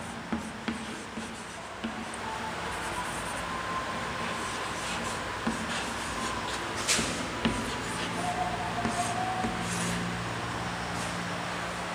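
A teacher writes by hand during a Hindi class, soft scratchy strokes and small taps coming in scattered bursts over a steady room hum.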